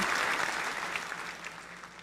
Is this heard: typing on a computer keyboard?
no